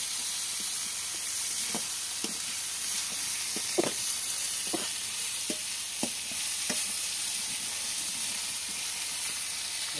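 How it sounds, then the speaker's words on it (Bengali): Potatoes being stirred in a hot frying pan, a constant oily sizzle and hiss with sharp spatula scrapes and taps repeating every second or so, close and even throughout. "আলুটা দেওয়ার পরে একটু নেড়ে নেব।"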